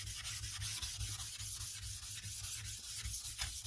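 A sharpening stone's surface is conditioned to clear old slurry, giving a steady, close scraping rub with rhythmic back-and-forth strokes that runs for several seconds without pause.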